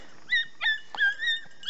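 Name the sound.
beagle hounds barking while rabbit hunting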